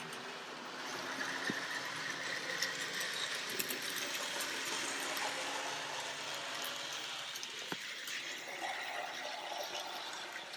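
Model train running over the track of a small glued layout, a steady mechanical whir and clatter holding at an even level throughout, close and alone, with a few faint clicks.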